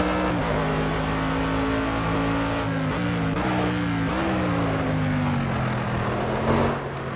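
A GT3 race car engine in an online racing video game at a 24-hour track drones loudly and steadily, its pitch rising and dipping through several gear changes without any talk.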